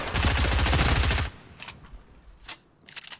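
A loud, fast burst of automatic gunfire in Fortnite Battle Royale lasting just over a second, followed by a few fainter, scattered distant shots against a quiet background.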